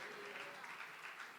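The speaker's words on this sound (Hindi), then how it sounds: "जोर से ताली बजाएंगे।" A church congregation applauds, a quiet, steady wash of many hands clapping that runs unbroken for the whole stretch, heard faint and at a distance.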